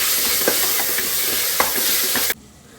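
Ghee being stirred into a hot pan of onions with ginger-garlic paste for kabsa, a steady close sizzle and hiss with soft scraping stir strokes, cutting off abruptly near the end.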